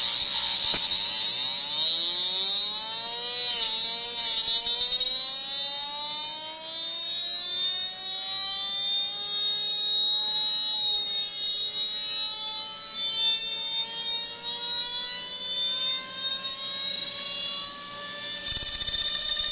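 A magnet motor spins up toward maximum speed, a high electric whine whose pitch climbs steadily over many seconds, with a rattling mechanical buzz underneath, continuous and close.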